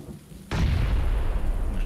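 Gunfire in a PUBG match: a single heavy, booming shot cracks in suddenly, then rolls into a long, loud, rumbling echo that fills the rest of the moment.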